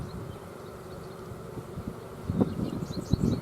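Honeybees at an open beehive buzz in a continuous, close hum, with a few individual bees droning past over the low, steady swarm sound.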